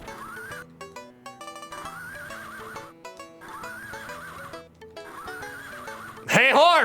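A horse neighs in the NES video game Crystal's Pony Tale, a loud chiptune whinny near the end that comes after a bouncy, repeating game melody.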